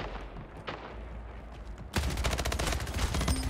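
Rapid SMG gunfire in the online shooter Splitgate, a dense burst that starts abruptly partway through and continues loudly to the end, preceded by quieter in-game ambience.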